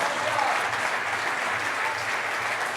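Steady, dense applause from a church congregation at a Saturday fire convention service, filling the whole moment at close range with no break in the clapping.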